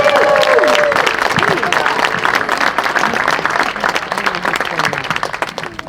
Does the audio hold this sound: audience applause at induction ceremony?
yes